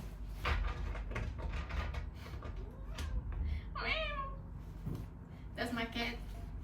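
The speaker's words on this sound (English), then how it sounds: "That's my cat." A pet cat lets out a short meow, rising and falling, amid quiet indoor room noise with a few soft knocks and shuffles; a second brief meow-like call follows near the end.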